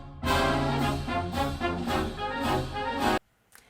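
A short musical excerpt in 2/4 march time plays loud and full, with steady, evenly spaced accented beats over sustained harmony for about three seconds, then stops abruptly.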